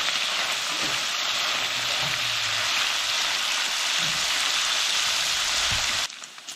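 Food fries in a pan until crispy with a dense, loud, rain-like crackle that holds steady and then cuts off abruptly near the end.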